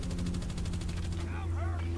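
Rapid automatic gunfire in a Call of Duty-style shooter, a Kilo 141 rifle among the weapons, laying down cover fire as a steady repeating burst. A low engine-like drone runs beneath it, and a voice comes in near the end.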